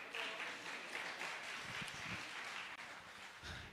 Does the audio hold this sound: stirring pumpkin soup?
no